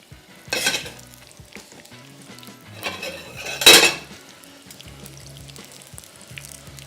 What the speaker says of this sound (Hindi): सो एक एक करके समोसे फ़िलहाल मैं फ्राई कर रहा हूँ, कच्चे गोश्त के समोसे और तिक्का फ्लेवर